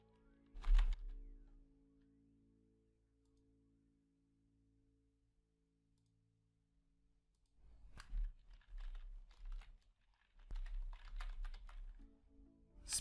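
Someone types a command into a Windows command prompt on a computer keyboard. A single click comes early, then a long pause, then close bursts of quick keystrokes with no speech.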